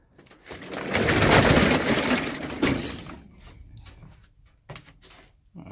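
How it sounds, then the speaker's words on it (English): A ramp door being closed gives a broad mechanical rumble and rattle that builds over a couple of seconds. It fades into quieter scattered clunks and taps, fairly close. "I'm going to close the ramp door."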